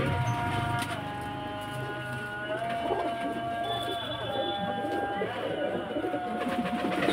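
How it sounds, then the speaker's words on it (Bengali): Quality pigeons at a loft coo in low, repeated burbling calls, with a faint voice murmuring in the background throughout. "পায়রাগুলো খুব ভালো ভালো কোয়ালিটি পায়রা আছে"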